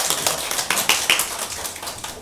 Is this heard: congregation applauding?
yes